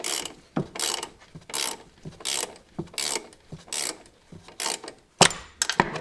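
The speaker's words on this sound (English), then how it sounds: "You probably still need something with a little bit more leverage on that little wrench." A small ratchet wrench turns a bolt during front shock replacement on a C5 Corvette, producing bursts of close clicking ratchet strokes in a steady back-and-forth rhythm with short pauses between.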